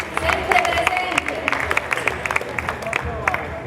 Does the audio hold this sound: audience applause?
yes